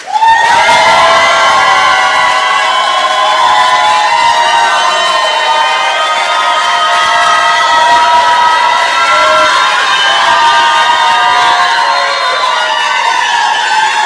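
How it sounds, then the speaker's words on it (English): Audience at a New Jersey Democratic gubernatorial debate welcoming Newark Mayor Ras Baraka with loud, sustained cheering, whooping and shouting that fills the hall without letup, with no speech over it. "show your appreciation with applause"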